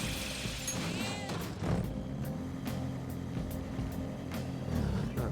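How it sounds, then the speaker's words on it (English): A car engine hums steadily in the video game Persona 5, a low, continuous drone that stays moderately loud throughout with faint clicks and interface tones over it. "This engine doesn't sound so bad either."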